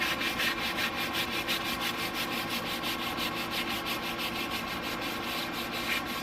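A brush rubs steadily back and forth over a surface, a continuous scratchy swishing in an even rhythm, close and fairly loud with no talking.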